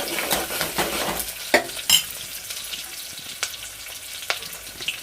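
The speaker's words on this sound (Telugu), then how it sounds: "పచ్చిమిరపకాయలు టమా ఉల్లిపాయ ముక్కలు అయితే మంచిగా ఫ్రై చేసుకుంటున్నాను" Green chilli, tomato and onion pieces fry in a pan with a soft continuous sizzle and a few spoon scrapes and knocks as they are stirred, close and without any talking.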